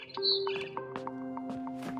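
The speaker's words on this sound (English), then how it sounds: "It was a barn swallow going back to her nest." A barn swallow in the video game What Remains of Edith Finch gives a quick series of bright chirps and tweets over a soft tonal background.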